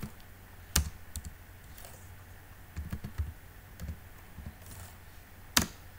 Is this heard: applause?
no